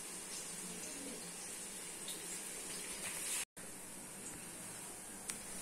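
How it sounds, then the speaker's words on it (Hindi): Tomatoes and green chillies are rinsed under a running kitchen tap, the water flowing in a steady close hiss that cuts out for a split second midway, then carries on. "फ्रेंड्स टमाटर और हरी मिर्चों को धो लेते हैं और इनको भी काट लेंगे।"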